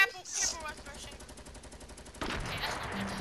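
Fortnite gunfire crackles in a rapid, rhythmic burst of automatic shots, followed by a denser, louder stretch of action, with voices briefly heard amid the shooting.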